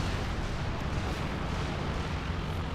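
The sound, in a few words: artillery barrage in Company of Heroes 2 video game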